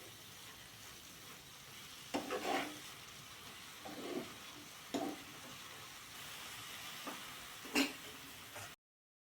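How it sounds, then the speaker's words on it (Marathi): Paneer bhaji is stirred together with chopped coriander in a pan, with a soft low sizzle beneath several distinct scraping strokes of a spoon, spaced a second or two apart, before the sound cuts off abruptly. "शेवटी त्यात कोथिंबीर घालून चांगले मिक्स करून गॅस बंद करून घेऊया"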